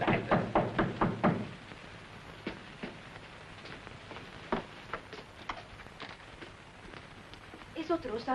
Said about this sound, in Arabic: ايه صوت الرصاص ده؟